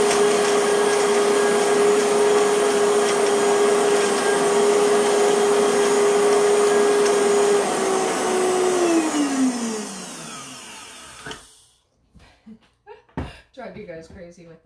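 A Vitamix blender pulses shelled pistachios, a loud steady motor roar that holds for several seconds, then winds down with a falling pitch before a few short bursts and rattles near the end.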